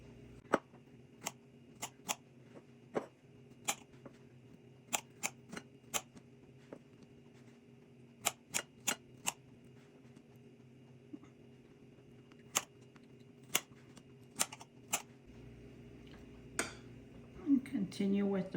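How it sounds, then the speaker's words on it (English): A knife slicing fresh strawberries on a cutting board, sharp isolated taps landing irregularly, sometimes in quick pairs, over a faint steady background hum. "I'm just gonna go ahead and slice my strawberries"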